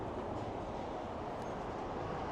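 A PATH train rumbles at Journal Square station in Jersey City, a steady, loud, unbroken roar of rail noise that fills the whole moment with no talking.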